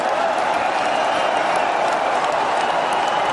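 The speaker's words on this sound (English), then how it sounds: "the crowd absolutely erupted on their feet here" A stadium crowd at an AFC Asian Cup 2007 football match between Vietnam and the UAE roars and applauds after a goal, a dense, loud and sustained wall of cheering and clapping with a commentator's voice mixed in.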